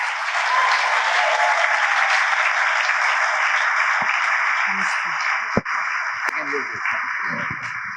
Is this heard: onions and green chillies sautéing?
no